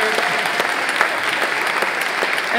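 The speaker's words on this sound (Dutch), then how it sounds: "Groot applaus voor hen." Audience at an art event applauding for the artists, a steady close wash of many hands clapping at constant loudness, with a few sharper individual claps standing out.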